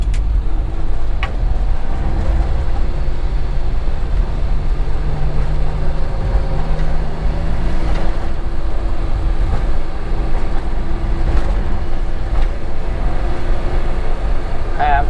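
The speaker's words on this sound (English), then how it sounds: "Idling pretty good right now" A Suzuki Carry with a fault that makes it stall when warm idles steadily. Its engine gives a loud, close, low rumble that holds unbroken for about fifteen seconds.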